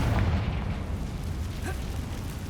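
A Confringo spell explosion in the Hogwarts Legacy video game, aimed at a run-down bridge, comes as a continuous loud booming rumble, with a short sharp crack partway through.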